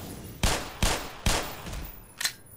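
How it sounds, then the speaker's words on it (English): Four sharp pistol shots crack in Black Mesa, the first three evenly spaced about half a second apart, the last coming after a pause, each loud and close with a short echoing tail, fired at a Vortigaunt. "I like to use my pistol to snipe him off"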